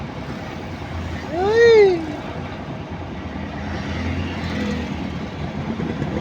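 Heavy road traffic of cars and trucks rumbles steadily in a jam, with a loud horn blast rising and falling near the start and a voice briefly heard over the drone.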